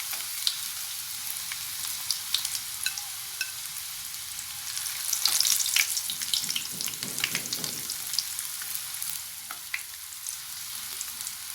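Pieces of vegetarian pork skin deep-fry in hot oil on a stove, giving a steady close crackling sizzle with sharp pops that swell in the middle, without any talk.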